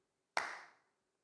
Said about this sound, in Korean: 여러분 제 박수 소리 들으셨어요?